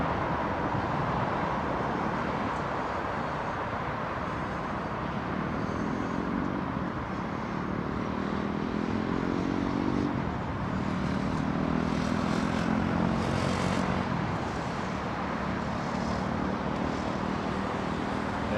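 Korean Air Boeing 747 taking off from London Heathrow, a loud, steady jet roar that fills the whole stretch and swells slightly midway as the aircraft climbs away.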